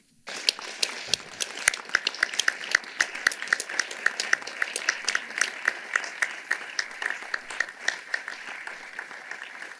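Guests at a backyard wedding on Hillside Farm clap for the couple's parents and grandparents, a sparse start swelling into rapid, crisp clapping that continues evenly outdoors.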